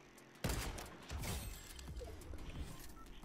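Sniper rifle headshots in the video game Fortnite: a sudden loud shot bursts in, followed by rapid clattering bursts of gunfire and game effects over about three seconds, with no talking.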